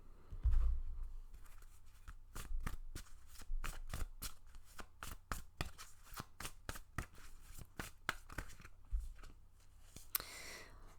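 Tarot or oracle cards riffled and shuffled by hand in a quiet room, a long run of crisp, rapid flicking bursts in steady rhythm, close and fairly soft, with no talk.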